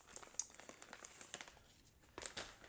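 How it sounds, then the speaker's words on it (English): A sturdy zip-top Peak Refuel Chicken Coconut Curry MRE pouch is handled and opened with soft, irregular plastic crinkles and rustles, faint and close. "This is a nice sturdy pouch as well"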